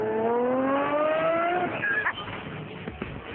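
A 2010 Lamborghini Murcielago LP 670-4 SuperVeloce accelerates hard, its engine note climbing through the revs with a roaring, rising whine before easing off, heard loud from nearby.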